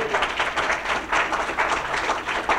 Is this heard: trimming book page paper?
no